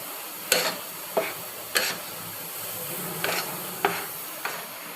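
Sheera, a semolina sweet, being stirred and fried in a pan, with soft sizzling under several scraping strokes of a spoon at an irregular rhythm, close and fairly quiet.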